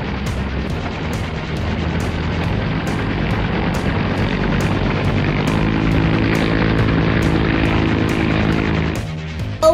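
A voice imitates a toy helicopter during stop-motion play, a loud continuous droning whir with regular rotor-like pulses that ends abruptly after nearly ten seconds.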